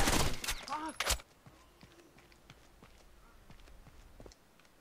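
Gunfire in the video game Rainbow Six Vegas 2: a burst of loud close shots at the start, then fainter scattered shots and clicks continuing at a distance under low background noise.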